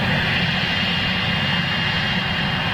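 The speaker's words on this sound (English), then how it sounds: "Two Dreamliner touching down behind." A Boeing Dreamliner jet touches down at Manchester Airport, heard as a steady, loud low engine roar with broadband hiss, constant throughout with no voices.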